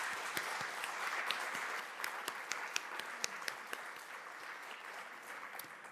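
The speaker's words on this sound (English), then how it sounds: "I want to give another round of applause for our panelists" Audience applauding panelists at a policing and carceral system panel event, steady sustained clapping from a room full of people for several seconds, with sharp individual claps standing out, no talk.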